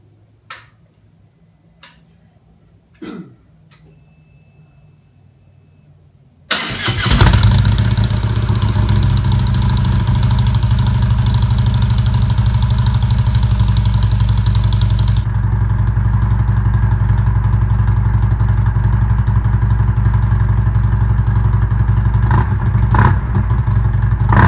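A 2016 Harley-Davidson Road Glide fitted with Vance and Hines slip-on exhaust starts up after a few faint clicks, then settles into a loud, steady, rumbling idle that holds for about eighteen seconds with no revving.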